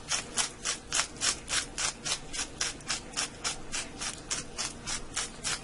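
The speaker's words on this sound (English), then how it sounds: "That would be quicker than grinding your own salt." Sea salt ground in a hand salt grinder, a close, steady rhythmic rasping of about three to four gritty turns per second, with no voice over it.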